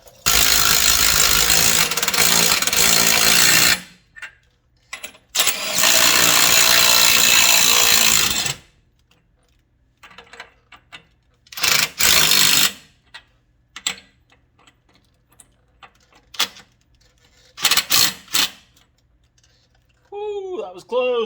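Impact wrench runs on small wheel adapter lug nuts, two long loud bursts of several seconds each followed by shorter rattling hits, with quiet gaps and brief voices in between.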